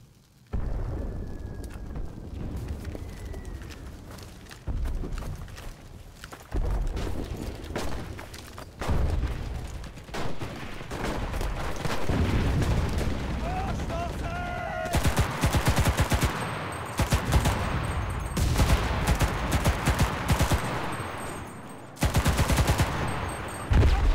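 Artillery fire and explosions boom and crack through a World War II battle for Moscow in the Enlisted game, with rapid bursts of machine-gun fire and repeated heavy blasts, loud and dense throughout.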